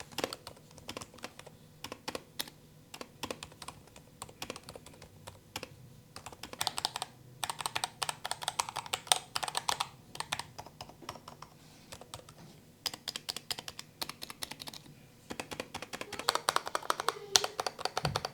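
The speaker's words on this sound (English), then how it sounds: "this, guys, is the quietest keyboard I've ever used" Light, soft clicks of typing on a very quiet plastic computer keyboard at a desk setup, coming in quick bursts with short pauses between them.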